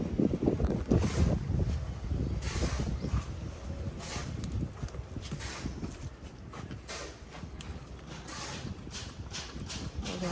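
Blustery wind rumbles against the microphone in uneven gusts, louder at first and easing slightly, with scattered rustling and thumps.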